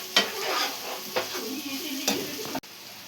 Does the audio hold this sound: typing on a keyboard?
no